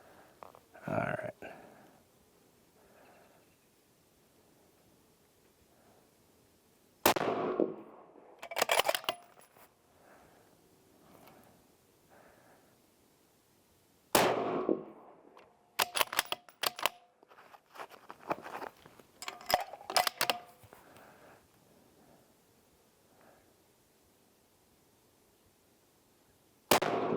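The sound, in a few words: rifle shots fired at 25 yards while zeroing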